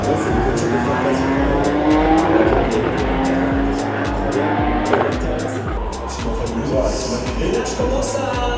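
Fast training race cars, heavier and more powerful, roaring around a track in a GP Explorer event, loud engines whining and shifting pitch as they pass, with tire squeal and speech-like crowd noise mixed in.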